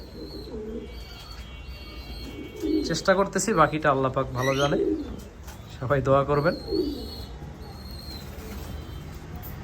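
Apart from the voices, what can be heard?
pigeons cooing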